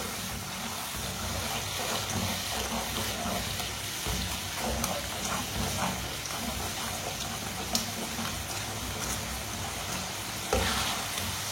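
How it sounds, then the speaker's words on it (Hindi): A spiced masala with a splash of added water frying in a pan over raised heat, stirred in a steady continuous sizzle with faint scraping, close and moderately loud. "अच्छी तरह मिक्स कर लेंगे।"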